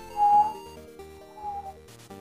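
A person tries to whistle, producing a short wavering tone, then a weaker second attempt that breaks up with breathy air, ending in a brief rustle.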